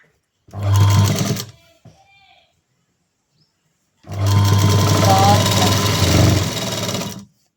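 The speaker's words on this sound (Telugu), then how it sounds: "ఎటైనా స్టిచ్చింగ్ చేసుకోవచ్చు" An electric sewing machine stitching a blouse runs in two loud bursts, a short one and then a longer steady whir, with a quiet pause between them.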